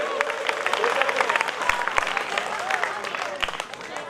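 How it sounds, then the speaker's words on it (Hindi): Loud applause from a school audience at a Bhagat Singh statue unveiling ceremony, dense steady clapping for the daughters with a few sharp claps standing out and a voice briefly over it. "एक बार जोरदार तालियां बेटियों"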